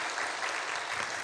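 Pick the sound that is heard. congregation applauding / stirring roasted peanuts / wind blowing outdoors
congregation applauding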